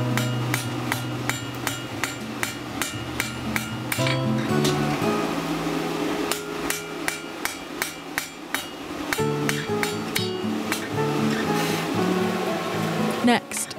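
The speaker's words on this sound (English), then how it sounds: "using a forge heat, you do what we call dressing, which is lighter hammer blows" Repeated hammer blows ring out on an anvil as a forged steel lantern stake is dressed with lighter strikes at forge heat, a steady series of sharp metallic impacts with a resonant ring, some passages quicker and closer together.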